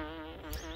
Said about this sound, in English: I am not getting murdered by bees today.